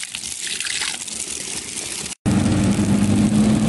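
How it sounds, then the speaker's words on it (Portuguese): Natural stream water rushing along a mountain trail, a loud continuous gush close by that briefly cuts out and then returns fuller and rougher, with no voices. "Gente, água natural, ó."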